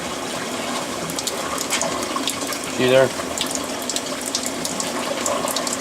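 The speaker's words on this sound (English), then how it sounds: "That's how fast the water comes out" Water gushing hard from the hose of a 110-gallon reverse osmosis aquarium system, a steady, loud broadband rush lasting throughout, with a short spoken remark near the middle.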